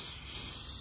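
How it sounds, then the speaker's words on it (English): A short, steady hiss of lubricant sprayed from a can onto a door seal, close by and moderately quiet, with no talk. "So I'll spray the seal with that"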